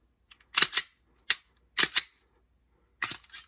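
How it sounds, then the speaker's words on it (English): A Glock Gen4 MOS slide on a Gen3 frame gives a series of sharp metallic clicks as the slide is eased back and the trigger resets, in close, crisp pairs and singles separated by short silences. "pull the slide back just a little bit without racking it, and if it resets"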